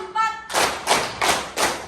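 A school class claps in unison to a teacher's counted rhythm, four sharp, evenly spaced group claps ringing out close in a classroom right after a brief voice.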